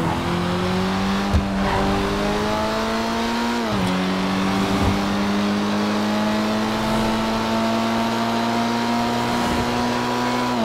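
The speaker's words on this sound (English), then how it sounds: "The sound that engine makes on the freeway." Car engine cruising on a freeway in the video game GTA Online, a loud, sustained engine drone with a gear shift and shifting revs, heard alone without talking.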